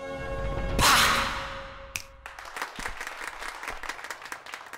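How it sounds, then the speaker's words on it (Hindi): A group of people in a film scene claps happily, starting after a short whoosh and settling into a sustained patter of applause. "वो खुश होकर तालियां बजा रहे हैं"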